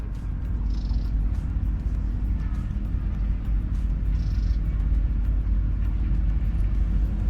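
Train 156 Down passes Ratanabad railway station, a disused station about 60 km from Hyderabad, as a continuous loud low rumble of wheels and engine. It holds steady throughout, close by, with no talk.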